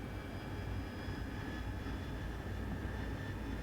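Harrier jet engine in DCS throttling up, a steady loud roaring whine with a faint high tone running through it, holding at an even level throughout.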